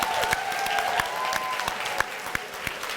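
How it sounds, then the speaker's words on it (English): A crowd at the Maggie Awards 2016 ceremony claps for the conference husbands, a loud sustained round of applause with sharp individual claps standing out and a faint tone running underneath. "So I want a huge round of applause for the conference husbands."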